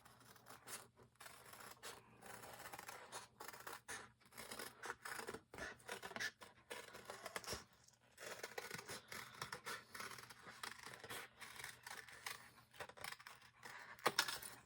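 Scissors snip and rasp through thin cardboard to cut out wing shapes, a steady series of close, quiet cutting strokes with brief pauses and a sharper clack near the end.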